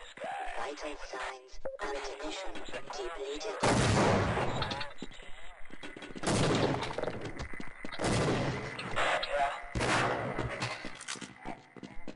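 Grenade blasts in the Half-Life shooter, several loud booms and bursts of gunfire going off close by, with talk over the combat in between.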